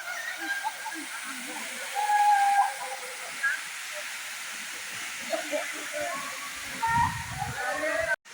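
Water pours over rocks at Sidhanathi Falls in Karnataka, a steady broad hiss of flow filling the scene while someone talks over it.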